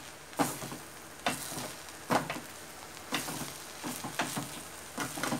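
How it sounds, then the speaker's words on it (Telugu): Ponnaganti leaves stirred and frying in a pan, with a steady soft sizzle broken by repeated scraping stirs about once a second, close and moderately quiet. "ఒకసారి కలుపుకుందాము"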